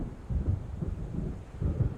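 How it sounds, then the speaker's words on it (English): Thunder from an approaching storm in Alan Wake rolls as a low, rumbling murmur that swells and fades in soft waves, distant and continuous. "It seems there's a storm coming."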